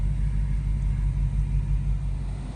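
A low-slung 2000 EM1 being pulled up onto a trailer gives off a steady, heavy low rumble of engine and strain that holds evenly throughout, with no talking.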